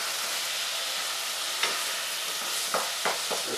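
Ground meat browning in a hot pan for nacho supreme; a steady, close sizzle with a few scraping stirs and clicks of a utensil against the pan, no talking.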